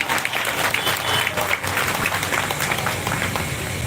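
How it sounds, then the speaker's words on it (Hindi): A crowd at a Shrimad Bhagavat Katha religious gathering applauds loudly, dense continuous clapping filling the space at close range, with some voices faintly underneath. "इन दाताओं ने जोरदार तालियां सब कीजिएगा"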